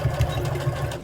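A sewing machine runs a short, close burst of back stitching along a hoodie side seam, its motor whirring with a slightly uneven chug.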